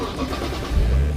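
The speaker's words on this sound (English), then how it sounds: "You can start the engine for." A race car engine fires up close by at a driving academy track, a low rumbling crank that catches and swells into a loud idle near the end.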